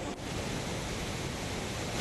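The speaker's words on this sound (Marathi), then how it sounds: "लातूर जिल्ह्यातल्या सर्वच नद्या ज्या आहेत ते दुतडी भरून वाहताना आपल्याला पाहायला मिळत आहे" The flooded Tawarja river in Latur running brim-full, a steady, dense rushing roar of water with no break across the whole short stretch.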